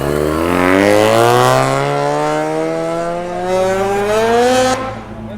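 A Mazda RX7 sports car engine revs and pulls away, its pitch climbing steadily through the gears, loud and close, then cutting off near the end.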